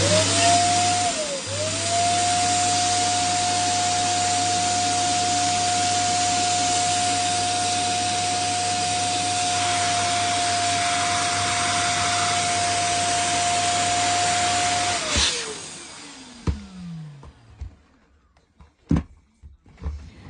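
Air blower running steadily as it inflates a Bobo balloon, a loud continuous whine and rush that holds for about fifteen seconds, then cuts off and winds down, followed by a few faint handling clicks.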